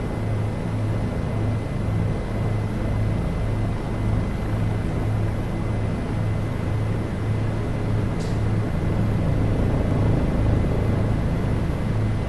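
A Bell 407 helicopter in the X-Plane 11 flight simulator holds a steady, loud rotor and turbine drone with a constant low throbbing pulse, unbroken and with no voices.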